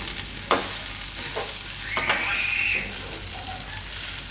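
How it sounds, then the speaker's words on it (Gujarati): Suran (elephant foot yam) mixture stirred in a pan over a low flame, with a steady soft sizzle and a few distinct scraping strokes of the spoon against the pan, close by with no talking. "આ રીતે મિક્સ કરી દેવાનું બધું."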